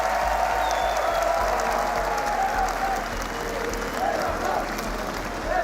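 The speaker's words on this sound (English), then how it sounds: "The Copenhagen crowd has been nothing short of phenomenal so far." A large arena crowd at the RLCS Copenhagen Major Rocket League esports event claps and cheers in a dense, sustained wash of applause that eases slightly toward the end, with a faint voice underneath.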